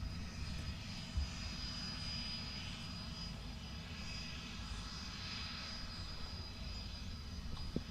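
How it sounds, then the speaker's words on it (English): TUI Boeing 787 Dreamliner jet passing near Manchester Airport. A faint, steady distant engine rumble with a soft broadband hiss holds through the whole clip, with no talk. "TUI Dreamliner's coming back."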